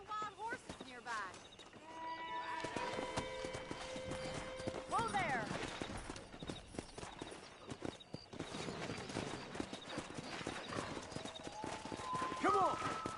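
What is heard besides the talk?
wild horses galloping in video game Red Dead Redemption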